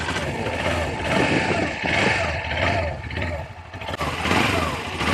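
A cafe racer motorcycle engine struggling to idle after a mod project, rough uneven running with dips and surges and a clattering tone, close by, with people talking over it.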